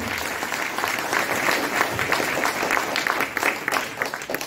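Applause from the audience at a marketing celebration event in Kolkata, dense continuous clapping, loud and close throughout.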